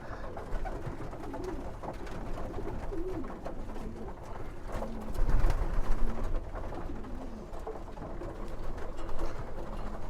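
Pigeons in a loft coo in a steady low murmur, several birds near and overlapping, with faint rustling and wing shuffles throughout and no speech.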